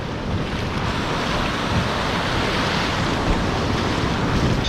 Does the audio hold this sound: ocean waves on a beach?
yes